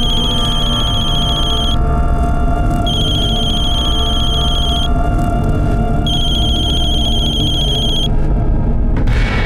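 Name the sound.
telephone ringing, call not answered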